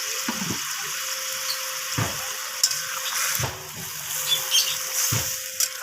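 Water poured into a pot of fish curry with vegetables, a close gushing splash that comes in several short bursts with brief pauses, heard alone.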